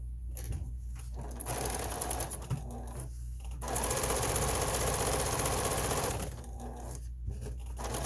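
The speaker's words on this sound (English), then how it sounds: "sew right across the top a 1/4-inch seam" A sewing machine fitted with a 1/4-inch quilting foot runs a straight seam across the top of blue mask fabric, its steady motor hum coming in close bursts with brief pauses, one longer continuous run in the middle.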